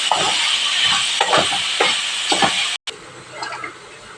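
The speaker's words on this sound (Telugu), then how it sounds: "ముందుగా మనం పక్కన పెట్టుకున్న మసాలా పేస్ట్ని వేసుకోవాలి. బాగా ఫ్రై అవ్వనిద్దాం." Masala paste frying in a pan, a close steady sizzle with repeated rhythmic stirring scrapes, briefly cutting out near the end before the sizzle returns.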